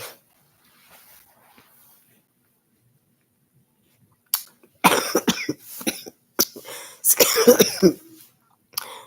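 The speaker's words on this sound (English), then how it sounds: "I got this little lingering cough I'm trying to get rid of." Several sharp coughs in quick bursts after a quiet stretch, close and loud, with a faint throat-clearing sound early on.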